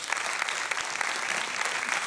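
Audience applauding inside a tattoo-themed show venue, a dense steady wash of clapping from many hands that fills the whole stretch without a break and with no talk over it.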